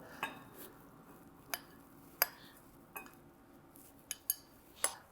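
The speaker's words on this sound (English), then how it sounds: "I'm gonna start off with some white rice in the bottom of my bowl." A spoon scoops cooked white rice into a bowl, giving a handful of soft, separate clinks and taps of utensil against dish, faint and close.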